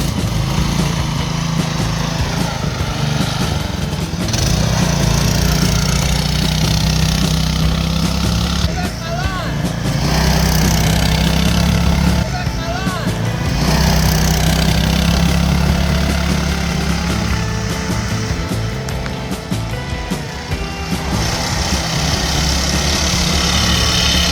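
Small 212 PowerPack single-cylinder engine on a go kart runs steadily throughout, a loud continuous drone with slight revving swells, close by with no clear talk over it.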